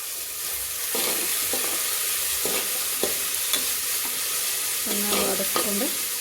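Whole spices and bay leaves fry and sizzle in hot oil for a fenugreek and spinach pulao, with a steady crackle and intermittent scraping strokes as they are stirred in the pan, close and clear with no talk.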